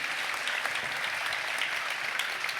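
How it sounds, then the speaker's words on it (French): A conference crowd applauding and cheering after a speaker steps down, dense steady clapping that fills the room evenly from start to finish. "la foule en liesse"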